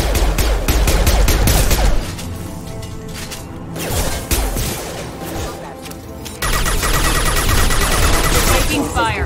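Loud bursts of rapid gunfire from a Mass Effect 2 firefight crackle in dense volleys, break off, then resume, with a voice speaking between the shots.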